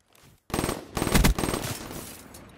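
Rapid bursts of automatic gunfire in a multiplayer shooter, rattling in quick clusters after a brief pause, fairly close and punchy, with no talking.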